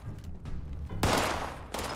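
A single loud gunshot lands a headshot in the video game Fallout 76, a sharp crack about a second in over rumbling game background noise, followed by a fainter burst.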